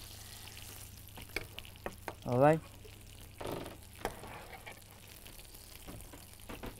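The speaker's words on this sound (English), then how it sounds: "Now you can hear some sizzle." Fish fries in fat in a hot pan, giving a faint, steady background sizzle with a few small pops and clatters while a person speaks briefly over it.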